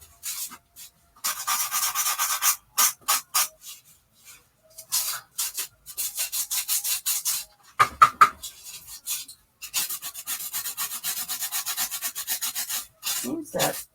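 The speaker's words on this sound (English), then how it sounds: "Seems that styrofoam is a little hard to work with, but I think I got that smoothed out some." Rough edges of a styrofoam piece for a diorama are rubbed smooth in short back-and-forth bursts of close, dry scuffing, separated by brief pauses, with no voices.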